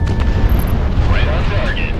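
A missile strikes its target in Project Wingman, a rolling explosive boom under ongoing game sound, with a voice speaking over the blast.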